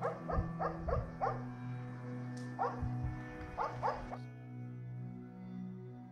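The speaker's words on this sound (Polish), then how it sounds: "Słychać z daleka ujadające psy." Several dogs bark and yip in repeated bursts, faint and far off, outside an abandoned house, with a low steady hum underneath and quiet near the end.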